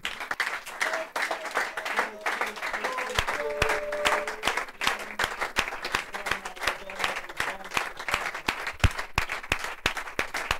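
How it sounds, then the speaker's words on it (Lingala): An audience at a church service applauds loudly in dense, sustained clapping that fills the whole stretch, with faint voices and some musical tones beneath. "On acclame très fort"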